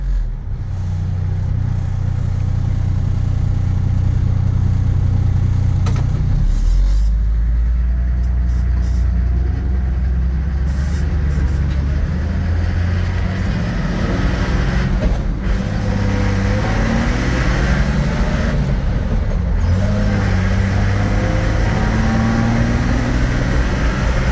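A 1978 Toyota Land Cruiser with a soft top driving along, its engine droning loud and steady from inside the cab, pitch stepping up and dropping through gear changes over constant road noise.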